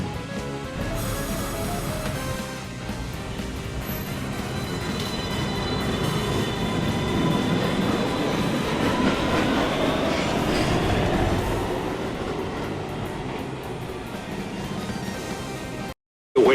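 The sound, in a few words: R62 subway train on the 1 line departing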